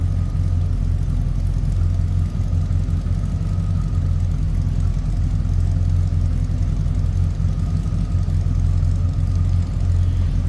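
A 1974 Lincoln Mk IV's big engine idles with a steady low rumble and hum for about ten seconds, heard from close by with no talking.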